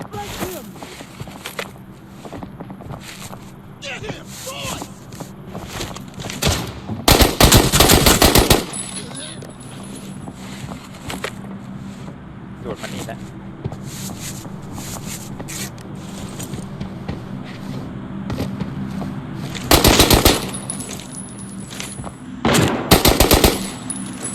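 Gunfire in the shooter game Arena Breakout, with several loud sustained bursts of automatic fire standing out over a busy bed of game noise and footsteps, while someone talks throughout.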